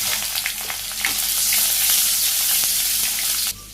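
Cumin seeds and chopped onion sizzle and spit in hot oil in a Bangladeshi village kitchen. The frying is loud and close, with crackling pops and stirring throughout, and it cuts off abruptly near the end.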